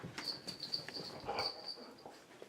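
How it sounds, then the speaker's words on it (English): Dogs whimpering and yelping faintly at a distance, with brief high whines and soft scattered sounds over quiet background noise. "Oh, the dogs"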